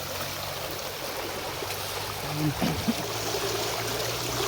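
A stream swollen by heavy rain rushes past in a steady, broad wash of flowing water, with a couple of brief splashes midway.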